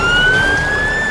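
Ambulance siren of a rescue team arriving alongside a crane truck at a stuck-truck scene, a loud steady wail holding close and continuous over background road rumble.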